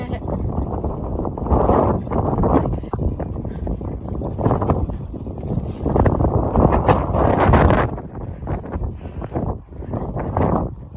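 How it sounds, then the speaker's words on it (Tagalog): Strong wind buffets the microphone in loud, roaring gusts, with voices faintly under the noise. "Lakas ng hangin."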